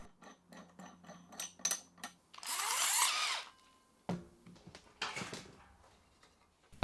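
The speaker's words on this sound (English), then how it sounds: "I've got a hole saw that's just going to be the perfect size to cut the hole in the barrel" A hole saw cuts into a 28 litre barrel in a workshop, giving a short, moderately loud burst of drilling after scattered clicks and taps from tool handling, then a second brief burst.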